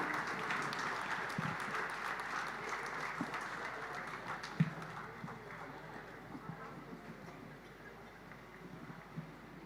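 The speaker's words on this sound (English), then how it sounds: "Can we give them a round of applause?" Audience applause fills a literary festival hall, a steady patter of many clapping hands that slowly fades, with a voice speaking faintly underneath.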